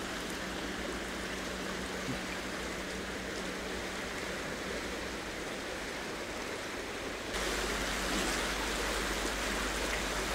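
Fast-flowing river water rushes steadily in a snowy setting, a broad, constant hiss and roar that grows slightly louder and fuller toward the end, with no talking.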